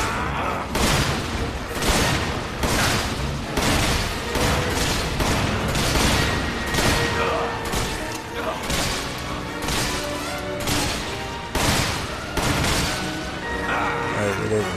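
Rapid gunfire from the Resident Evil 5 video game, likely a .38 revolver, with loud repeated sharp shots in an irregular rhythm that run steadily through the whole stretch.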